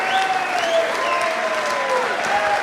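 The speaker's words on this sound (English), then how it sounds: "let's have a big round of applause for both sides, for Team Europe and, of course, Team America." A large audience at the 2014 Mosconi Cup pool event applauds both teams, producing a steady, full wash of clapping with a few whistles riding over it from start to finish.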